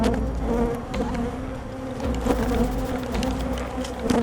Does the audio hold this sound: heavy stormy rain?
no